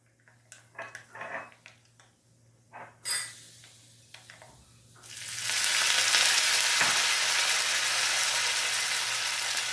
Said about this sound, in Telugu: అల్లం ముక్కలు, పచ్చిమిరపకాయ ముక్కలు, ఇవన్నీ నూనెలో బాగా వేగాలి